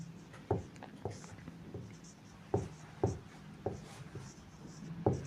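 Chalk or marker tapping and scratching on a classroom board as a definition of Coulomb's law is written, a series of sharp, irregular strokes heard up close and fairly quiet.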